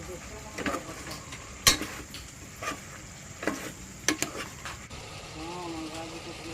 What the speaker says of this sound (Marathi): किती चांगल्यापैकी मिक्स होत आहे सर्व झालेले आहे आणि मस्तपैकी थोडे थोडे शिजत पण आले आहे